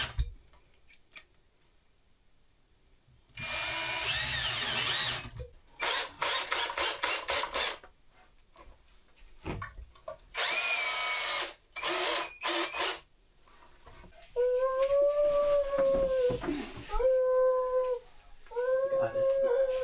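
Power drill driving screws into sheetrock comes in several loud, close bursts of whirring and grinding, each lasting about a second or two with pauses between, followed by a whining, pitch-bending tone toward the end; voices are heard briefly.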